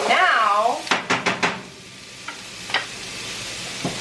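Chunks of meat for bolognese sizzle in a pan, a loud frying hiss followed by a quick series of spatula stirs and scrapes against the pan, then quieter sizzling with a few more knocks.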